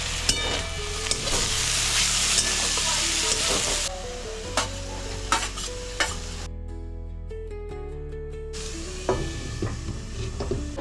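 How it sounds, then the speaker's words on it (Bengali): Vegetables for pasta fry and sizzle in a pan while being stirred, loud crackling with repeated scraping and clattering strokes of the utensil, continuing with brief pauses. "হয়ে গেছে আমাদের পাস্তার সব সবজি ভাজা"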